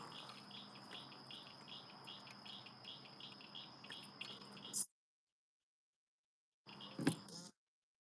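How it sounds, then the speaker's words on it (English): Steady evening chorus of frogs calling near a fishing spot on the water, a dense pulsing trill that runs continuously, then cuts out abruptly before a short burst returns near the end. "You can really hear the frogs coming over yours."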